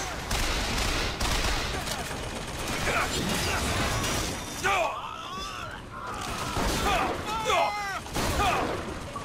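Shotgun blasts in the video game BioShock Infinite, heavy booming shots amid dense combat noise, with whooshing effects and a voice talking over the fight.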